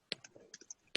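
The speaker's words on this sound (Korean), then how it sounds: "이렇게 키보드 소리가 들리지?" A few scattered keyboard key clicks, sharp and close, with short gaps between them and a quiet background.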